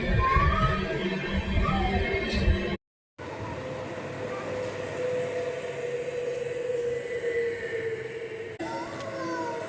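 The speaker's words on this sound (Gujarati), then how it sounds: "ટ્રેન તો જો જાય." A train passes by at a station in Junagadh with a steady, heavy rumbling roar that cuts out briefly at one point and then returns at a constant level for the rest of the clip.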